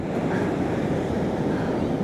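Raging ocean surf near a river mouth on a rainy day, a loud, unbroken roar of crashing water mixed with wind buffeting the microphone.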